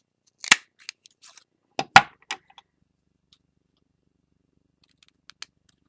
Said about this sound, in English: I think I'm going to try to make a hole in here and then cut up the hole